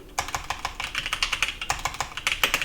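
Fingers type steadily on a computer keyboard, a quick run of close, crisp key clicks in an even rhythm with no voices.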